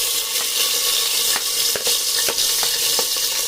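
Onions, cashews and a bay leaf frying steadily in hot oil, a loud continuous sizzle close by with a few soft stirring clicks and no voices.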